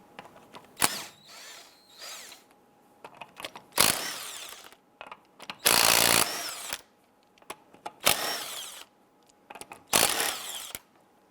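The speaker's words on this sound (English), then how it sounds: "Using our 19mm socket, we're going to loosen and remove the lug nuts." A power tool with a 19mm socket loosening lug nuts on a 1995-2001 Ford Explorer, several loud, short whirring bursts separated by quiet gaps, close by.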